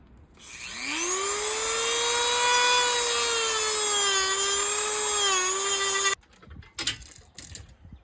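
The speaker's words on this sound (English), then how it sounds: "So we're just gonna take this Dremel right here and keep cutting it." A Dremel rotary tool whines at a high, steady pitch as it cuts into parts during a Foxbody heater core bypass, loud and close, wavering slightly under load before shutting off, followed by a few clattering handling noises.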